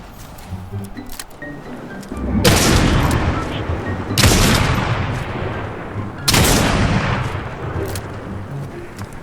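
Gunfire in Fortnite blasts into wooden builds, three heavy volleys of rapid shots, loud and close, each trailing into a long rumbling decay.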